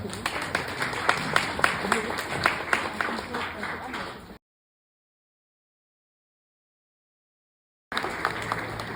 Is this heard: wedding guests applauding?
yes